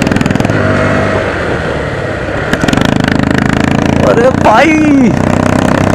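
A Bajaj Pulsar NS 125 and a Bullet 350 race side by side, and their engines roar loudly at full throttle with a pulsing exhaust beat. Someone shouts excitedly over the engine noise.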